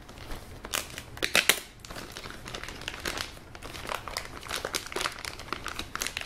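Plastic wrap crinkles and rustles as it is pulled off during the unboxing of a Durabook S15C2 rugged laptop, close and continuous with bursts of sharper crackling.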